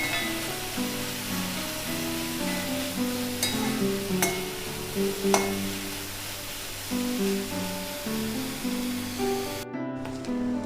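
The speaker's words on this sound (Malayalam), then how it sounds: "അപ്പോൾ സോട്ട് ചെയ്തുകൊണ്ടിരിക്കണം." Ingredients for Kerala tomato curry sauté in a pan with a steady close sizzle and occasional stirring scrapes. Faint music plays underneath throughout.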